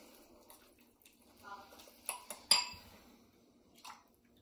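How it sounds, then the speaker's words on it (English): Pulled pork being stirred with sauce in a pan gives a few light scrapes and clinks of utensil on metal, with a sharper clatter near the middle, all fairly quiet. "Gonna mix that up. I'm gonna get this pork nice and saucy."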